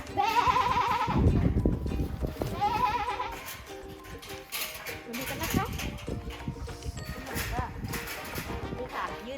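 Goats and sheep bleat repeatedly in a farm pen at Rai Ruen Rom, several animals calling close by with overlapping cries, along with faint shuffling and hoof sounds and someone speaking in the background.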